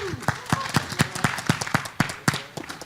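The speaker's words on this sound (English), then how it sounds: "A big round of applause." Audience applause at a startup fair's final pitch battle as a company CEO is welcomed on stage: a dense crowd clapping with sharp, fairly regular claps rising and falling for about three seconds, no talk over it.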